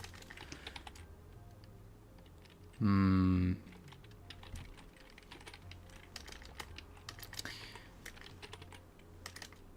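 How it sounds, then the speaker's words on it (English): A computer keyboard typed on a little clumsily during game-coding work: a brief, close burst of keystrokes lasting under a second, with scattered soft clicks and faint background noise around it. "I'm typing a bit poorly there"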